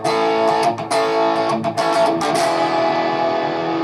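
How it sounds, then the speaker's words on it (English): A thick, sustained electric guitar distorted by an overdrive pedal rings out loudly, a few chords struck and left to sustain with a rich overdriven buzz. "Real rich sounding distortion."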